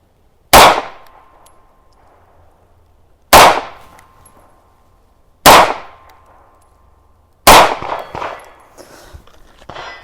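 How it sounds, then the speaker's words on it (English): Four sharp, loud pistol shots from an M&P 2.0 Compact with a 4-inch barrel fired at 3 yards on a range, spaced a couple of seconds apart, each with a ringing decay. "we're going to start with the M&P 4-inch. We're at 3 yards. We'll shoot 4 rounds"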